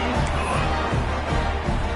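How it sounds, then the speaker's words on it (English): A stadium crowd at a football game buzzes after a touchdown, a dense, steady murmur of many voices with scattered shouts and cheers, continuous and fairly loud. "this crowd is buzzing after that last score"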